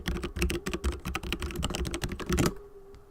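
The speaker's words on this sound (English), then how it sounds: "I'm typing." Rapid computer keyboard typing, close and fairly loud, a dense run of clicks for about two and a half seconds before stopping into near silence.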